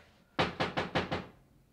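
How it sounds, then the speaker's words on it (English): Five quick, sharp knocks on a door in an even rhythm, close and fairly loud, followed by quiet. "you had to keep knocking and knocking"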